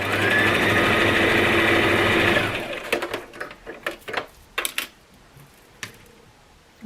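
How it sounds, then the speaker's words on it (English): A sewing machine stitches a seam on a toiletry bag, a steady close whirring run of about two and a half seconds that stops, followed by scattered handling clicks and rustles. "And on this line, I'm going to stitch."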